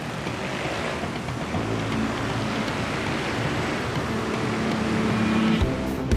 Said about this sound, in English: You can just hear the scooters, man, like angry hornets,